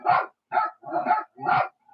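An Australian Shepherd barking through a smart speaker: four evenly spaced, mid-pitched barks in quick succession, clear and alone with no talk.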